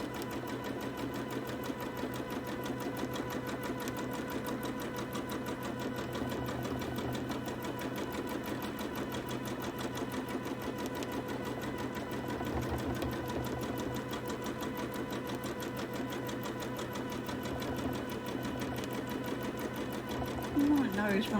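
A sewing machine quilts a scrappy toddler quilt, its needle running fast in a steady, continuous rapid whir with even mechanical chatter throughout, close and fairly loud, while a person talks over it.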